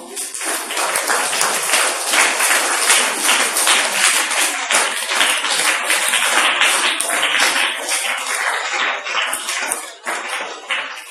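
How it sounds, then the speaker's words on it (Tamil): Government middle school children clap together in sustained, loud applause that fills the room without pause for about eleven seconds. "அவங்க கரகோஷம் பண்ண பார்ப்போம்"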